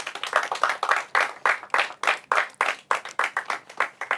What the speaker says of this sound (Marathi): तुम्हा सर्वांचं मनोबल आपण आता टाळ्या वाजवून वाढवूया